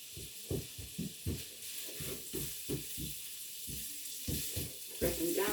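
Adobo ingredients frying in a pan on a home kitchen stove, giving a steady low sizzle that runs beneath a voice talking throughout.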